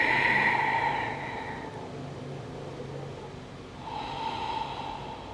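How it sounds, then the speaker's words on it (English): Deep, slow breaths during a yoga flow: a long airy inhale, a quieter stretch, then a second breathy rush, close and fairly loud with no talking. "Inhale deep. Exhale deeper."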